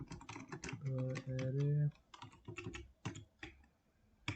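Rapid clicking of computer keyboard keys while writing Java code, steady irregular tapping close by, with someone talking over part of the typing.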